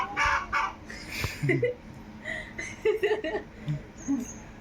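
A chicken clucks close by in short, irregular bursts, with a voice mixed in among the calls.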